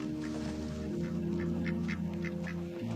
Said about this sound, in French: Ton canard, amène-le par là.